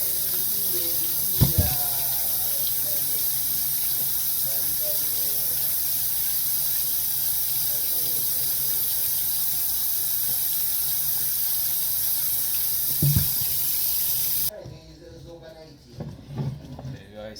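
Potatoes scrubbed under a running kitchen tap, a steady loud hiss of water with occasional knocks, before the flow cuts off near the end and a voice speaks briefly.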